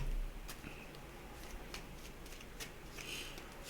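Tarot reading cards being shuffled by hand, soft repeated riffling and flicking close by, quiet and continuous with light taps scattered through.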